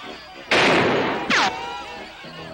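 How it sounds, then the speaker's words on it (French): Two loud gunshot bursts ring out in a French-dubbed Lucky Luke cartoon shooting contest: a big blast followed by a shorter second crack, the second trailing into a whistling ricochet-like tone. "Et maintenant, le concours de tir. Chacun tire une seule fois."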